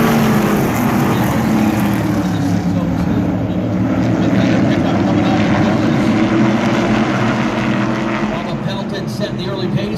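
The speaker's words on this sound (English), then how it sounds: "Now these guys are running a 602 motor with a 4-barrel carburetor or a 604 with a 2-barrel" Stock cars with 602 or 604 crate motors roaring around Wiscasset Speedway, a loud continuous engine drone filling the whole stretch, with an announcer talking over it.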